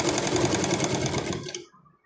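A sewing machine stitching the side seam of a dress, a rapid steady mechanical whirr close by that runs for under two seconds and then stops.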